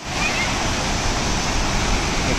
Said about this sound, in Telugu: బాగుంది వాటర్ ఫాల్ అయితే, సూపర్గా ఉంది.